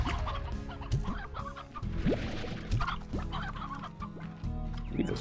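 Chickens in the Slime Rancher video game cluck and squawk in short scattered calls, several overlapping over a steady background of game music and ambience, with no talk.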